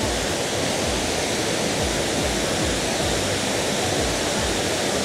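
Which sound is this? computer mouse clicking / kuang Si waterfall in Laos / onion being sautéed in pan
kuang Si waterfall in Laos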